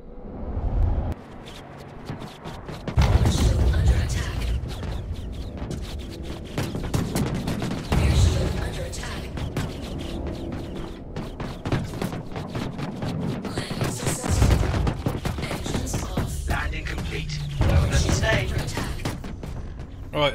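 Video game gunfire in Star Citizen hits the player's ship, coming as rapid repeated shots and thuds over a constant engine rumble, with a voice talking over parts of it.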